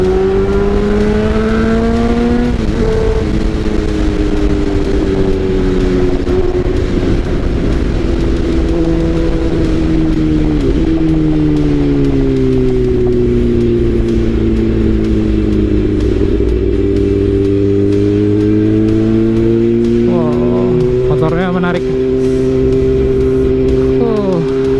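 A Kawasaki ZX sport motorcycle, a 600-class ZX636 or ZX10R, accelerating with the throttle opened: a loud, steady engine drone that rises and falls in pitch, with a sharper rev burst near the end.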